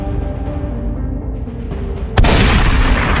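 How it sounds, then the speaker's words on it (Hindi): A police officer fires a single gunshot in a 3D animated horror comedy, a sudden loud blast cutting abruptly into a rumbling music bed and leaving a sustained noisy tail. "इसने तो गोली चला दिया और वो गोली जेसन को लग गई है"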